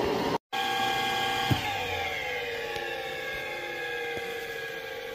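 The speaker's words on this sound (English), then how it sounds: "Engage the power feed, and now we're going to cut away from the spindle." Grizzly G9729 lathe cutting away from the spindle under power feed, a steady whining drone with layered tones, loud and continuous, with a brief dropout near the start and a light tick midway.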